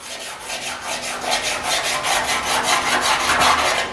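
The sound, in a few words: block sanding guide coat on a 1950 Chevy truck panel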